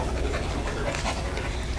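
A nine-month-old dog that loves tennis balls pants rapidly and continuously, close and fairly loud, as a steady breathy rhythm.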